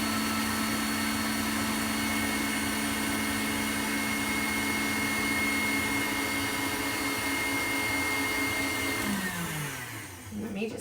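An electric mixer whips cream for banana pudding, whirring loudly and steadily for about nine seconds before its pitch drops as it winds down and stops.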